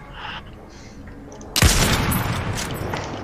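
Video game gunfire erupts suddenly after a quiet stretch, with a loud blast followed by a dense, sustained burst of shots.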